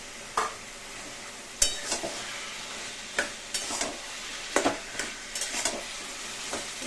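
Chopped hilsa fish heads are stirred into taro leaves (kochu shak) in a frying pan: a soft, continuous sizzle broken by repeated sharp scrapes and clacks of the spatula at irregular intervals, close up.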